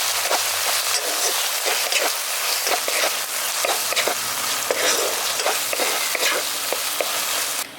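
Potatoes fry hard in a pan as Kashmiri chilli powder is stirred in, a loud, steady sizzle broken by repeated scraping strokes of the spoon, with no talking.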